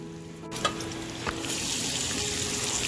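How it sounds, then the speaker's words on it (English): Bacon frying in a pot with its fat rendering out for clam chowder, a soft crackle that becomes a steady, fuller sizzle after a couple of stirring clicks. "Your bacon's starting to get some color and the fat's being rendered out."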